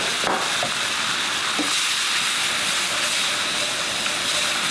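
Water poured into a hot pan while making salmon croquettes sizzles and steams in a steady, loud hiss that runs unbroken throughout, with a few faint clinks near the start.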